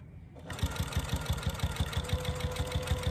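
A sewing machine stitching a minky baby blanket starts up after a quiet moment, then runs in a fast, even mechanical thumping rhythm close by with no talking.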